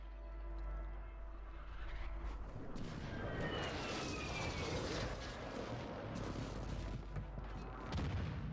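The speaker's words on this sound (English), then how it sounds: "Friendly airstrike in the AO." Friendly airstrike in Call of Duty Warzone 2: a low hum gives way to dense, sustained rumbling blasts and crackling impacts, with faint whistling streaks overhead, loud and continuous.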